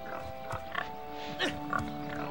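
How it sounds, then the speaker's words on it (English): Pigs in the PS2 game The Lord of the Rings: The Fellowship of the Ring give several short grunting oinks, spaced irregularly over a steady tonal game background. "I wonder if he can hit the pigs."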